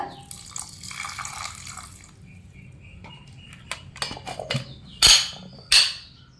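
Water pours for about two seconds into a grinder jar, followed by scattered clinks and two sharp knocks of the container.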